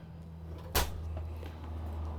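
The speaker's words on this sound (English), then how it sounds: "Full extension drawers. Look how far that comes out." A full-extension drawer pulled out in a 2022 Newmar Bay Star Sport 3014 Class A motorhome, giving one sharp clack as it slides open, followed by a low steady hum in a quiet interior.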